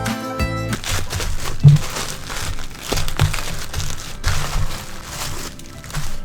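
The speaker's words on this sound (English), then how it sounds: "let's wrap each one of these separately using 1 sheet, 1 square of larger bubble wrap" Bubble wrap crinkling and crackling as an item such as a coffee mug or candleholder is wrapped in a large square sheet and taped, a steady close rustle with a few sharper crunches.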